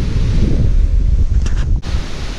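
Steady broadband roar of a waterfall in Yosemite, running low in a dry season, heard up close as a continuous wash of rushing water mixed with wind buffeting the microphone, with no voices.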